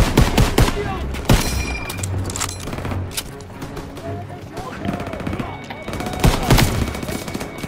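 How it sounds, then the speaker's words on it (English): Rapid gunfire from Call of Duty WW2 during the Operation Cobra campaign mission, with bursts of shots and loud cracks throughout, mixed with battle noise and a voice talking underneath. "put the smoke bomb in and I start shooting"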